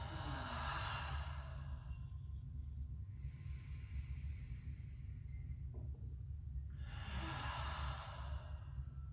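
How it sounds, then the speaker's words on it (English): Slow, deep breaths during a yoga session: a long audible exhale, a quiet pause, then another long breath, soft and close over a low steady room hum. "Take a few big, deep, nourishing inhales, long cleansing exhales."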